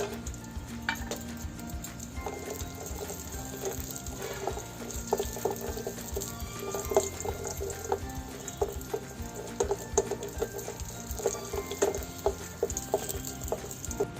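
Steady sizzling of vermicelli frying in hot ghee, with scattered crackles and pops and an occasional scrape of stirring. No one speaks.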